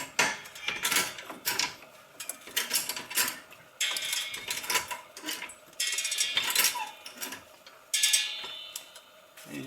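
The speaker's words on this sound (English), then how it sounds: "I'll just tighten the spring compressor as I go, and I can just easily hand tighten it here." A spring compressor is tightened by hand on the front strut of a 2006 Audi A4, giving close, irregular mechanical clicking and ratcheting with short scraping bursts of metal on metal, loud and near, with no talking.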